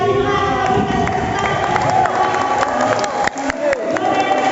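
A crowd at a church quiz contest for an Easter celebration claps and cheers for the winners. The mixed, lively applause sounds close and loud, and a short dip comes near the end.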